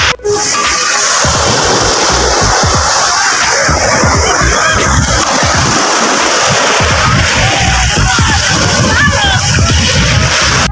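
Sea waves at a beach: continuous broad washing and hissing surf, loud and close, with sloshing and splashing textures and no clear pauses.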